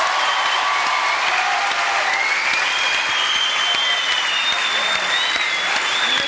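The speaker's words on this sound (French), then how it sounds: "Mesdames, messieurs, applaudissements pour Apollo." An audience in a French television studio applauds a performer named Apollo, dense sustained clapping that stays loud and even throughout, with a faint whistle-like tone drifting over it.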